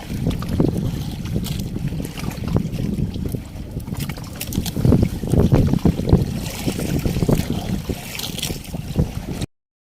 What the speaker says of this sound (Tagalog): basta malakas yung hangin